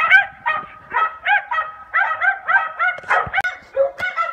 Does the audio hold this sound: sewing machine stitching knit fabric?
no